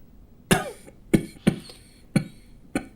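A man coughs five times in a quiet indoor scene of a period war drama. The coughs are sharp and close, spaced irregularly, with silence between them.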